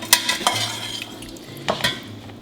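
Cooked chickpeas and Brussels sprouts go into a hot pan of spicy tomato sauce, making a few sharp clatters and scrapes of food and utensil against metal over a low background hum, with no talking.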